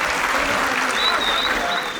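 An audience at a political rally in Ashok Nagar claps in a dense, continuous burst of applause, with voices carrying over the clapping.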